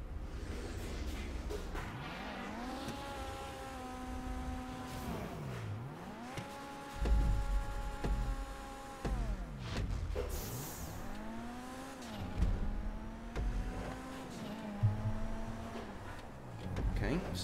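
Kuruma rally-style car racing in GTA Online on the Decker Street Raceway custom track: a loud engine repeatedly revving up through the gears and dropping on shifts, with whooshes and brief tire squeals.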